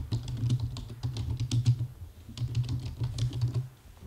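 Keys clatter on a computer keyboard as a title is typed into a form, a fast, uneven run of close clicks in two bursts with a short pause between.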